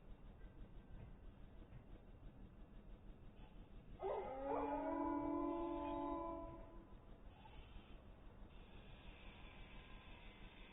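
Dogs howl in the Space Engineers video game, a loud drawn-out wavering howl lasting about three seconds, rising out of a steady low rumbling ambience that carries on before and after.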